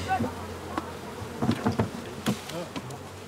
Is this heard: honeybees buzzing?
yes